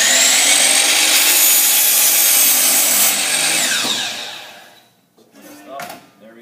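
A miter saw cuts through wood at full speed with a loud, steady, close whine. The tone drops as the blade spins down, and a few brief knocks and rustles follow.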